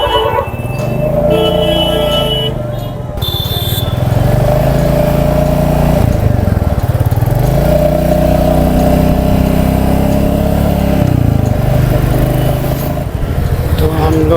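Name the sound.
motorcycle engine riding on highway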